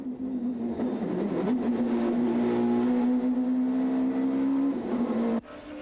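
Supertourisme touring cars racing at the Dijon circuit in 1997, a steady loud engine drone holding pitch as a car passes, with a brief shift and a drop near the end; no talking heard.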